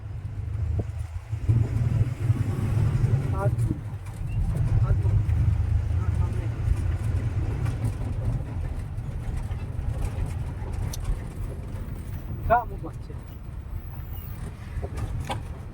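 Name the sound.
car being driven during a driving lesson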